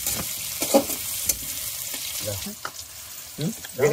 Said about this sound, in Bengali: প্রথমে পেঁয়াজ লঙ্কা তেল দিয়ে লঙ্কা গোটা দিয়ে মিশিয়ে নিচ্ছি আমরা